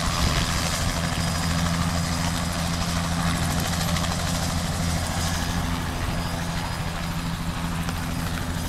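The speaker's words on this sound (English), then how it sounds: "Helicopter!" A helicopter flying overhead gives a steady, loud droning hum with a low throbbing undertone that holds evenly throughout, with no talking.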